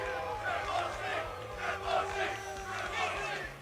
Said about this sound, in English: Can you guys boo me first before I start?